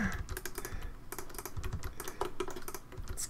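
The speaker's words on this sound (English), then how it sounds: "I'm hoping that the mouse clicks are not getting annoying to you." Rapid computer mouse clicks from someone working in Blender 3.0 character modeling, crisp and close, coming in quick irregular bursts with short pauses and no talking.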